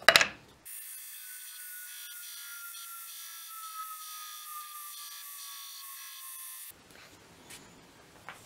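A bench grinder grinds down the wooden handle of a wakizashi/katana-style sword forged from a file, a steady abrasive whine lasting about six seconds with a slowly falling tone, then stopping into quiet workshop noise.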